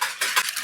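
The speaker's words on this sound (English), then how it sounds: "Give those a quick whisk." Eggs whisked quickly in a bowl make a rapid, close scratchy patter of metal against the bowl in quick repeating strokes, heard alone.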